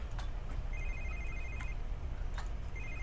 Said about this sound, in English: Oh, your phone's going off.